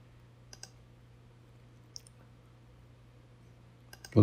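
Several sharp, faint computer mouse button clicks, widely spaced, with a louder burst at the very end, over a steady low electrical hum in a quiet room during screen-recording editing work.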